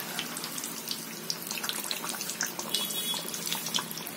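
Mirchi vada, Jodhpuri-style chili fritters, sizzle in hot oil, a steady crackling hiss with dense popping bubbles throughout, close and fairly quiet, with no talking.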